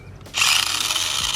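The small motor of a Rui Chuang QY1802A toy RC buggy whines up into a steady high-pitched mechanical buzz with gritty clicking gear noise, close and continuous after a brief quiet start.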